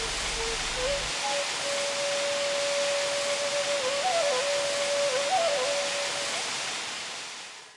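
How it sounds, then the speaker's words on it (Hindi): A flowing waterfall at the Vrishabh (Rishabh) Tirth pilgrimage site makes a dense, steady rush of water with a thin wavering whistle-like tone on top, fading out at the end. "कल कल बहते इस झरने के पानी को लोग पवित्र पानी मानते हैं।"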